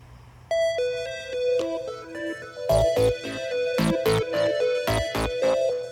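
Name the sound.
phone ringing during call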